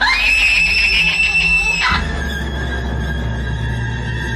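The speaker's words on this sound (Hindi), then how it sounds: "वो जोर से चीखी और कमरे से दौड़ती हुई बाहर भागी।" A woman screams loudly as a horror-story sound effect: a piercing, sustained shriek lasting about two seconds, then cutting abruptly to a lower, steady eerie tone.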